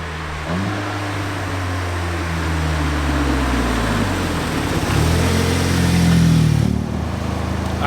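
Audi S3 engine with aftermarket exhaust and downpipe revving up and down in close, loud sweeps, pitch rising and falling twice with droning exhaust tone and a brief flutter as revs drop, no talking.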